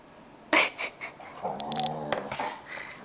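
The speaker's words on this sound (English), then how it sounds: "My dogs are playing underneath me right now." Dogs playing close by, giving whimpers, snuffling breaths and a low growl in irregular bursts, with a sharp knock near the start.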